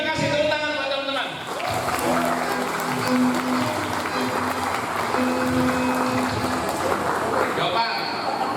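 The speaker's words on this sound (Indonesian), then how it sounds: "tepuk tangan buat teman-teman" Audience applause at a drug-abuse awareness seminar, a sustained crowd clapping over roughly six seconds beneath a speaker's voice and background music, moderately loud and steady before fading.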